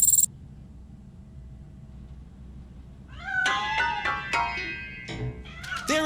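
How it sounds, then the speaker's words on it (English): A cat meows several times in RoboCop Rogue City, hidden inside a piano. After a quiet stretch of low room tone, a string of clear, close, rising and falling meows breaks out over about three seconds. "That cat must be hiding inside."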